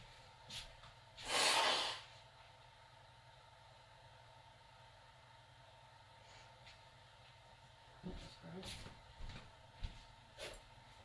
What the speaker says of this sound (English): Excuse me while I blow my nose quick.